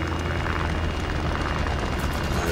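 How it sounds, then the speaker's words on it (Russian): Piston-engine airplane in the combat game War Thunder, a steady droning engine roar, continuous and fairly loud, with no speech. "Поршневый самолет летает."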